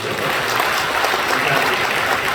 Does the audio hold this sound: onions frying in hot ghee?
no